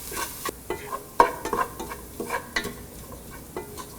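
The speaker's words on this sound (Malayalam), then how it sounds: "ബാക്കിയുള്ള 1/2 ടീസ്പൂൺ മഞ്ഞൾപ്പൊടി, 1/2 ടീസ്പൂൺ കുരുമുളക് പൊടി, 1 ടീസ്പൂൺ ഗരം മസാല എന്നിവയിട്ട് വഴറ്റുക" Turmeric, pepper powder and garam masala are sautéed in a pan for a stuffed quail dish, with faint sizzling under intermittent scraping stirs of a spoon, the clicks and strokes coming close and irregular.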